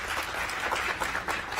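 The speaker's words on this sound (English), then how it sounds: "Give her another round of applause." Applause from an audience at a school board meeting, a steady, moderately faint wash of clapping with no voices over it.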